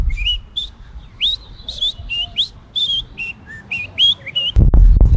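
A person whistling a TV theme song, a clear run of bright melodic notes at close range, ending in a sudden rough rustling noise.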